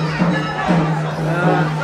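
A dense crowd murmurs in the queue at Jejuri's Khandoba temple, a steady babble of many voices close around, with a speaker talking over it.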